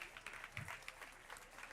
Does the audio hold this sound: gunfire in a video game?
no